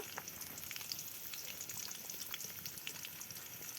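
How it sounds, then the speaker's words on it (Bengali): Dried sea fish and dried shrimp fry in oil with onion, green chilli, ground spice paste, turmeric, chilli powder and bay leaf, giving a steady close crackle and sizzle with occasional stirring clinks and no voices. "সব রকমের মশলার সাথে এই দুই শুটকি মাছগুলো ভালো করে ভেজে নেবে।"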